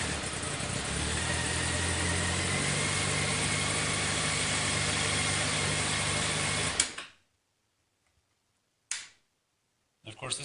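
A Honda Hornet 599 carbureted motorcycle engine idles steadily and loudly right after starting, then cuts off abruptly, followed by silence and two brief knocks.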